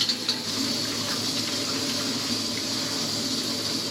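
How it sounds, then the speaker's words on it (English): Steady hiss of hot water streaming from a push-button shower in a cramped sailboat cabin, a continuous broadband rush that stays even and close for the whole stretch with no voices over it. "A nice hot shower."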